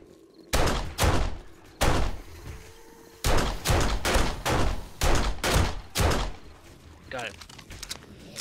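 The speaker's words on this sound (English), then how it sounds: "Long-range pistol sniping." Pistol fire in the zombie survival game 7 Days to Die: about a dozen loud, sharp shots in uneven bursts, each with a short decaying tail, close and dominant, with a brief voice near the end.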